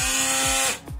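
A small 10.8 volt cordless power tool, used while building a foiling RC monohull sailboat, whines at a steady high pitch up close, then spins down and briefly blips again.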